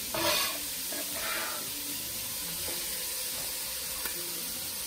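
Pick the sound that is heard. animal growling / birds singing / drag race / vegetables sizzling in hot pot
vegetables sizzling in hot pot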